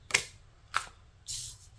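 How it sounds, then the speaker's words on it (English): Oracle cards being shuffled by hand in three short bursts, the first two quick riffling swishes and the last a longer, softer shuffle, all close and fairly quiet with no talking. "I will shuffle the deck in front of you to pick the oracle for you"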